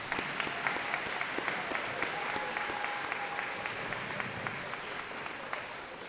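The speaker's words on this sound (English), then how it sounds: "So let's give them a round of applause." Sustained applause from a school awards day audience for male staff members, a dense steady patter of many hands held at even loudness for several seconds, with no talking over it.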